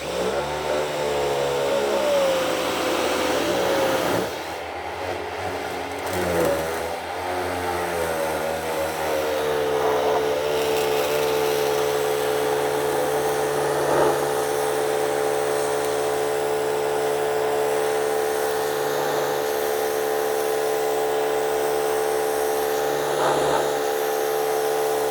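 A WHOLESUN 3000PSI electric pressure washer spraying through a 40 degree nozzle, a loud continuous motor whine and hiss that runs nearly the whole time, its pitch sagging and recovering briefly early on before settling into a steady drone.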